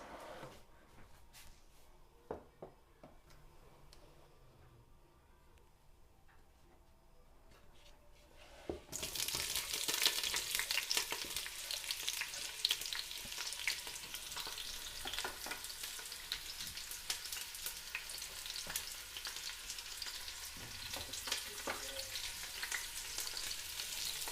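Chopped onions drop into hot oil in a kazan and fry with a loud, continuous crackling sizzle close by, following quieter kitchen clatter.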